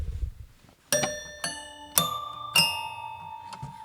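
Five bright, tinkling toy piano notes are struck one at a time at an uneven pace, each ringing briefly before the next.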